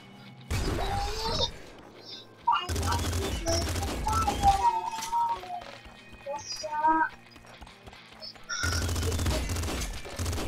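Gunfire from a powerful weapon in the top-down shooter Nuclear Throne, sharp bursts of rapid shots in separate volleys among chirpy game effects and bleeps, loud and close.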